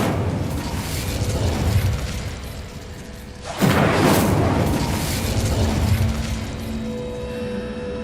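An Incendio fire spell cast in Hogwarts Legacy erupts midway as a single loud whooshing burst, rising out of steady game ambience and then fading back into it.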